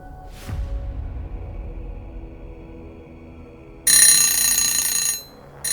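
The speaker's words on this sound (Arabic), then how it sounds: "صحيت تاني يوم على صوت المنبه" An electronic alarm beeps loudly in a fast, high-pitched burst that stops briefly and starts again, heard close with no talking.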